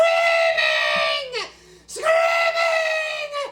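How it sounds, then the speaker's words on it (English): A voice lets out two long, high wailing screams, each trailing off downward, separated by a brief pause. "Screaming!"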